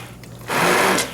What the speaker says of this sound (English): I'm going to take an immersible blender and just blend up some of this.